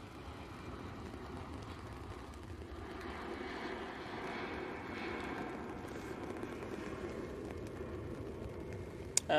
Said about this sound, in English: And that EasyJet is off to Belfast.